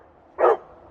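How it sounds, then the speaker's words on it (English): A single short bark from Ruby, a pet dog, close by and fairly loud, lasting a fraction of a second against a quiet indoor background. "she barks a lot"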